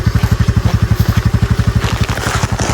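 A motorcycle wades through floodwater, its engine chugging in a fast, even pulse close by, with water splashing and clattering around it throughout.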